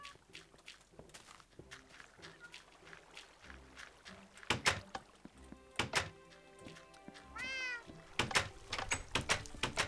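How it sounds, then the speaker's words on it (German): Minecraft cats meow in the game over a mix of blocky footsteps and thunking sounds, with several meows and one rising cry standing out near the end, and no speech. "Jetzt kommt mal mit, ihr Katzen"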